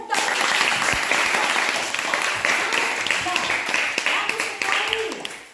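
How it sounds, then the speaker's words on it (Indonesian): A classroom of students applauds with a brisk, sustained burst of many hands clapping, loud and close throughout, tapering slightly near the end. "Tepuk tangan."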